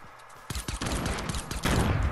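Rapid bursts of gunfire as players shoot at a llama in Fortnite, a dense continuous volley of overlapping shots that swells louder toward the end.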